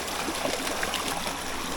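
River rapids flow past a rock on a trout stream, a steady close rush and gurgle of water with no other sounds.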